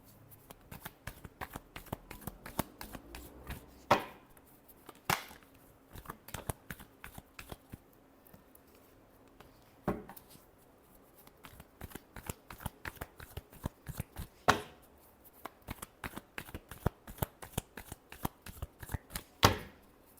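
Tarot cards being shuffled by hand in a steady riffling rhythm of dense crisp flicks, with sharper louder snaps recurring every few seconds, close and alone with no talking.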